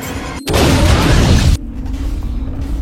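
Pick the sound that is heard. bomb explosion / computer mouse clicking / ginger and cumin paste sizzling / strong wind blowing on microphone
bomb explosion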